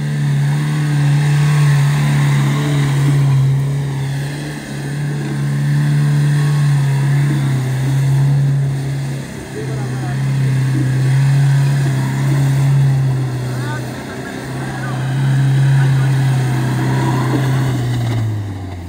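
A Mahindra Thar SUV engine revs hard on a wet climb in the rain, a loud, steady drone that surges and eases in repeated waves for nearly twenty seconds, with no talk over it.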